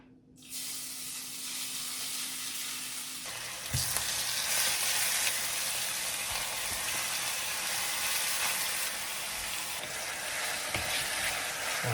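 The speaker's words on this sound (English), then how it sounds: "All right, our oil is pretty hot now, so time to go to the skillet." Chicken pieces stir-frying in hot oil in a skillet, a loud, dense sizzle that flares up as food hits the pan and then hisses steadily and close with occasional stirring clicks, no voices.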